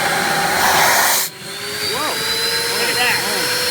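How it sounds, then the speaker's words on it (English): The vacuum motors of a Rotovac CFX ZX portable carpet extractor roar with a loud, steady whine. The roar drops abruptly for a moment as the load changes, then settles back to a constant high-pitched drone with wavering tones. "ZX vac motors custom built for Rotovac from Lam Amatec, made in the USA. These motors produce amazing vacuum lift."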